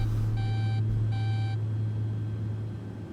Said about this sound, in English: Let's clear that autopilot disconnect.